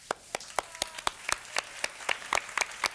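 A small audience claps for teachers, a sparse run of separate, fairly close hand claps at an uneven, loose rhythm over a few seconds.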